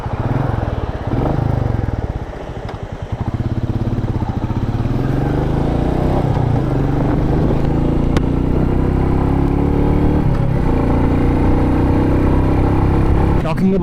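A matte black motorcycle with a 349cc single cylinder long stroke engine being ridden: a loud, close engine drone that dips briefly, then pulls and rises steadily with gear changes, continuous to the end.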